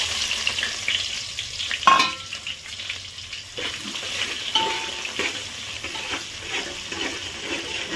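Onion added to hot oil with cloves, cinnamon, pepper and cumin for chicken biryani, frying with a continuous close sizzle and a few stirring clatters in the pan, without speech.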